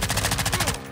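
Rapid automatic gunfire in the video game Call of Duty: Warzone 2.0, a loud, close burst of about ten evenly spaced shots lasting under a second.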